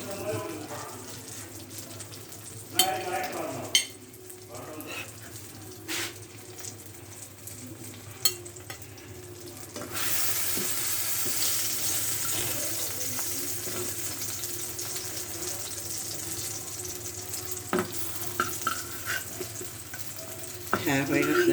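Eggplant slices frying in oil in a pan, a low continuous sizzle with intermittent clicks and scrapes as pieces are lifted out, growing louder midway, with some faint background noise.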